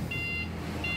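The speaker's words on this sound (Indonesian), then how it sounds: "Coba kita nyalakan sennya ke kiri." An aftermarket alarm buzzer on a Honda CRF 150 motorcycle beeps in time with the left turn signal: two steady, high electronic tones, each about a third of a second long, over a low idling hum.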